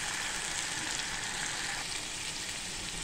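Homemade masala frying in oil over a low gas flame for a spicy Satara mutton thali, a steady, close hiss of sizzling that holds even throughout with no voices.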